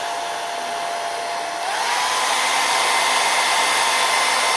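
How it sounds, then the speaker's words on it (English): A hair dryer blows steadily and close by, its broadband whoosh rising a notch in pitch and strength partway through, with no talking. "My hair dryer."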